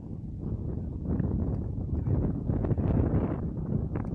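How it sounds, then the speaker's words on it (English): A gust of wind buffets the microphone outdoors on a bike trail, a low rumbling roar that builds and swells unevenly, with no talking. "Nice gust of wind there."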